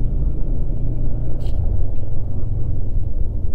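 Vehicles idle and creep in heavy traffic on the mountain road from Pangong to Upshi, a loud, steady low engine rumble close by with no pauses.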